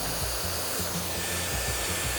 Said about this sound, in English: letting my blow dryer follow